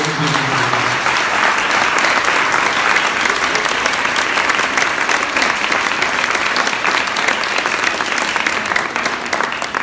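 An audience at an Iftar gathering at the Jewish Museum of Belgium applauds steadily, a full, even roar of many hands clapping that holds throughout with little change, after a brief voice at the start.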